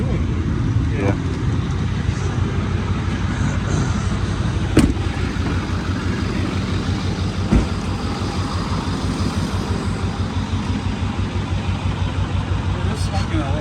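A Ford F350 with a 6.4 diesel engine and manual transmission idles with a steady, close, rhythmic clatter. A couple of sharp clicks break in, and voices talk over the running engine.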